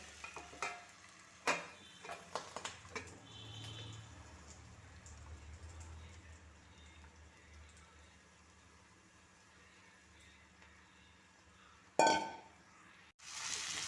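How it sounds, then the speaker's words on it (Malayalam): Marinated chicken going into a hot pan with a soft, low sizzle, a few sharp clinks and stirring knocks early on, then a quiet steady frying hiss and a louder clatter near the end, likely the lid being handled. "പുരട്ടി വെച്ച ചിക്കൻ അതിലേക്ക് ഇട്ട് കൊടുക്കാം ഇനി ഇതൊന്ന് അടച്ച് വേവിക്കാം"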